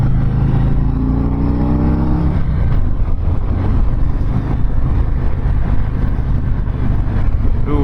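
A passing motorcycle approaches and rumbles by, its engine note sweeping down, under constant loud wind and engine roar from a 2019 Harley-Davidson Road Glide being ridden.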